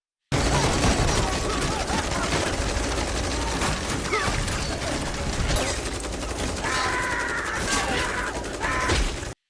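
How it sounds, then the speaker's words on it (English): Sustained, dense bursts of rapid automatic gunfire on a train, with mechanical rattling, loud and continuous throughout, no pauses. "He grabs a machine gun and opens fire without hesitation."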